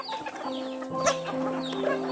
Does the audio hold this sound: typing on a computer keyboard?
no